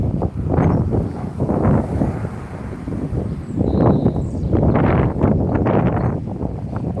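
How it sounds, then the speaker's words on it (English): Strong wind buffets the microphone in rough gusts, rising and falling in loud rumbling bursts with no talking. "it's a bit windy."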